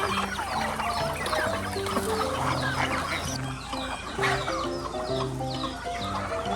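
Several chickens cluck and squawk in a busy farmyard chorus, with overlapping calls from turkeys and ducks close by, no talking.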